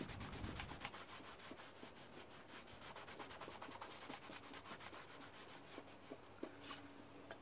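Steady rubbing across a craft surface with a pad in the resist technique, a close, continuous dry scrubbing in quick regular strokes throughout, fairly quiet with no talk.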